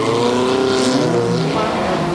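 A big-engined car at Bug Jam, a Volkswagen enthusiasts' event, runs loud and close with a rough, slightly misfiring engine note, a continuous droning roar with shifting pitch as it drives through.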